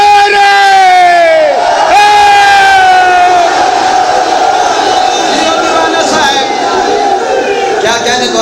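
Massed voices of a crowd at a religious gathering in an imambargah in Jalalpur, chanting slogans loudly and in unison in sustained, droning swells that fill the space and overlap each other.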